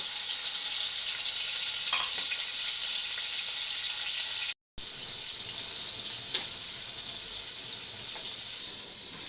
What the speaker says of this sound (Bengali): আমি মাছের মাথাটা তার সুন্দরভাবে ভেজে নেব